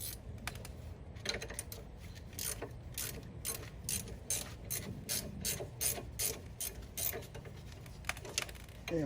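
A hand ratchet clicks in quick bursts while two 18 mm rear bolts on the Brembo brakes of a 2013 Cadillac CTS coupe are broken free, sharp close clicks repeating throughout.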